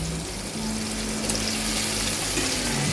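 Washed chicken pieces go into a pan of fried green spice paste for coriander chicken, setting off a loud, steady sizzle and hiss that holds without a break.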